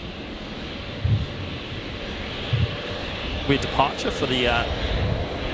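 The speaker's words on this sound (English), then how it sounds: "the 737 Max 8 coming in from Nandi. Onto 19 left." Fiji 921, a Boeing 737 Max 8 arriving from Nandi, comes in to land on runway 19 left at Brisbane International Airport. Its steady broadband engine roar sits at a distance, with voices talking over it.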